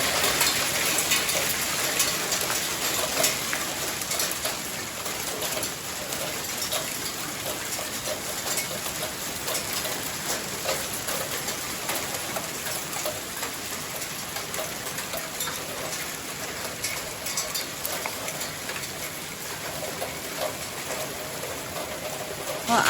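Steady rain falls in central Portugal after a storm, with a constant, even hiss, close and moderately loud, with no break throughout.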